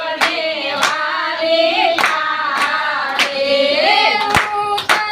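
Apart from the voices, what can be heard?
rhythmic hand clapping in devotional bhajan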